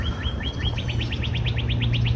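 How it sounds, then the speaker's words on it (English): Birds chirp outdoors on a nature walk, a steady run of quick, evenly spaced bright calls repeating over low background rumble, fairly close and clear with no talking. "And just listen to the birds."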